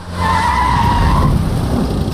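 A car brakes hard to a stop in traffic, tyres screeching loudly for about a second before the skid fades into engine and road rumble.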